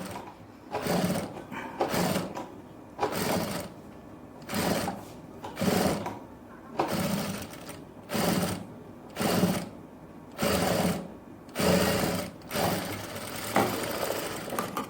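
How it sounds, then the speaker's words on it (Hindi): A sewing machine stitches a neckline design in short stop-start bursts, roughly seven runs of rapid whirring separated by brief pauses, close and clear with no talking. "पहले लगानी है एक सिलाई"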